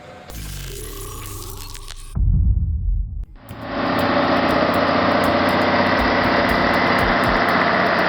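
Heavy haul truck engines labor while moving oversize wind turbine components up a steep incline, a steady loud mechanical drone that shifts briefly to a deep low rumble before settling into a sustained, broadband roar.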